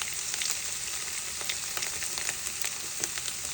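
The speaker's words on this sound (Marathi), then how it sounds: "छान परतून घेतलं भोपळा आणि मिरचीचं वाटण" Pumpkin and green chili paste sautéing in a pan gives a steady, close sizzle with frequent small crackles and light stirring scrapes, with no talking.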